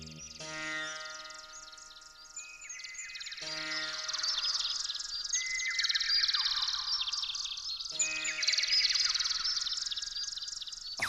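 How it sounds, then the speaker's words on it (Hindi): Birds sing steadily in a quiet forest, with overlapping chirps, trills and whistled phrases, some rising and falling, filling the air at moderate volume without any talking. "पक्षियों की आवाज सुनाई दे रही है।"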